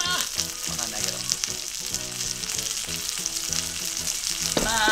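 Marinated herb chicken sizzles loudly and steadily in a pan over medium heat. The crackle swells slightly as the flipped pieces are pressed down, with soft background music running underneath.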